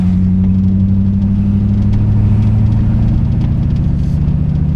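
A 1984 TVR 4.0 V8 Wild Wedge pulls steadily in second gear on a wet winter road, its deep engine rumble loud and continuous with a low, even drone throughout.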